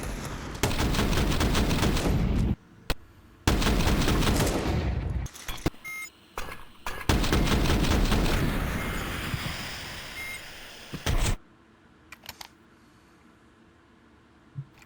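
Counter-Strike match gunfire: loud bursts of rapid shots with short silent gaps between them, a longer spray in the middle and a few scattered single shots near the end.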